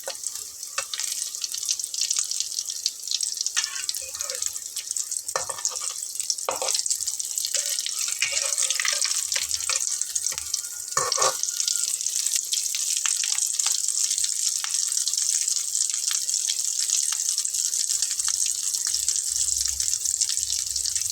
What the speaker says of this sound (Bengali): দেখুন সুন্দরভাবে এটা ভাজা হচ্ছে এবং চুলার আঁচটাকে কিন্তু আমি লো ফ্লেমেই রেখেছি